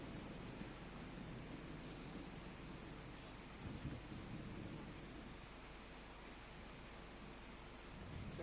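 Thunderstorm and rain sound effect in a Marathi one-act comedy stage play: a dense, steady roar of heavy rain with low thunder rumbling beneath, continuous and loud throughout, with no voices.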